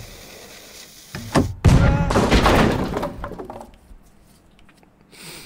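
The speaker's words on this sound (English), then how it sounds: "Cannon seems like the obvious choice" A cannon fires in the Henry Stickmin video game, a sharp thump followed by a crashing, breaking burst that rolls on for a couple of seconds and then fades.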